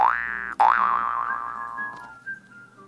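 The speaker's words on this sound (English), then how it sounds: "Is that you whistling?" A person whistles a clear, bright sustained tone that bends and wavers in pitch, with a sharp click near the start, heard alone and close.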